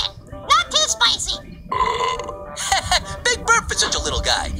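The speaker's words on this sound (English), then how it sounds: "Big burp for such a little guy." A loud, drawn-out burp after eating chicken wings with mild hot sauce rumbles through the middle of the clip, with people talking before and after it.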